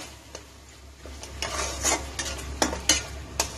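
Masala with tomato being stirred and fried in a pan, with repeated scraping strokes of a spoon against the pan over a steady soft sizzle, close and moderately loud, no voices.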